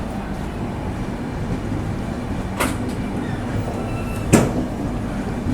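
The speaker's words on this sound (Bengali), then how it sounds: "ছেড়ে দিল আমাদের ট্রেন মাদুরাই স্টেশন থেকে।" A train pulling out of Madurai railway station at night rumbles low and steady inside the carriage, with two sharp clanks or door knocks standing out; no voices are heard.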